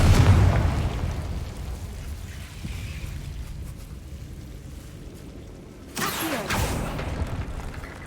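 A Confringo fire spell bursts in Hogwarts Legacy, with a loud blast opening the clip, a low rumbling tail, then a second bright crackling burst near the end.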